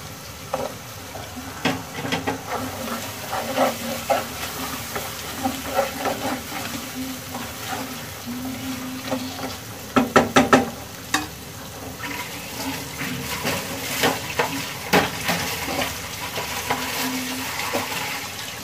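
Taro stalk curry is sautéed with spices in a pan, the sizzle steady and close, broken by frequent clinks and scrapes of a spoon stirring, with a denser cluster of knocks partway through.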